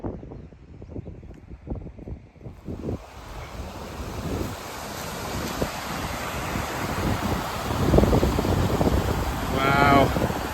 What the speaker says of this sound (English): looks like slate bed crossing there, and that's what's causing that little waterfall